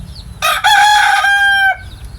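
Filipino labuyo breed chicken crowing once, loud and close, a long drawn-out call lasting over a second, framed by soft clucking and faint farmyard background before and after.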